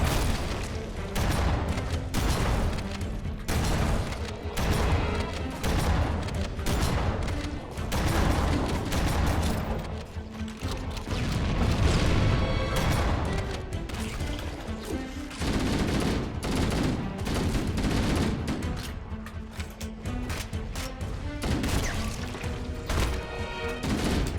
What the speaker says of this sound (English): I wish he'd stop reloading so I could shoot.